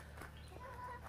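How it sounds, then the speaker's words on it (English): Backyard chickens cluck faintly in the distance with soft, brief calls over a steady low background. "sorry about the noise. We got some chicken activity."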